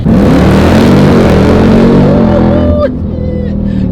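An all-wheel-drive truck making over 1,050 wheel horsepower accelerates hard, its engine roaring loudly and close with a rising pitch through the gears before the throttle lifts near the end.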